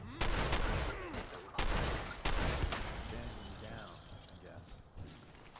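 Several loud shotgun blasts from the video game Fallout 4 boom at irregular intervals, each followed by a decaying tail, with background game sounds and a shrill tone mixed in.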